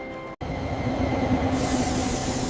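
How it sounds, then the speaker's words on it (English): A passenger train stands at a station platform, giving off a loud, steady rumble with a faint brake-like whine over it. A sharp cut comes near the start, and the rumble then continues unbroken. "I can see the train."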